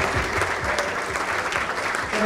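Steady audience applause at a GJEPC felicitation event for Biju Pattanayak, dense and continuous throughout with a faint voice briefly underneath.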